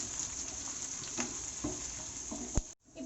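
Onions and curry leaves fry in oil for a crab pepper masala, making a dense, close sizzle with a few louder stirring knocks before the sound cuts off abruptly.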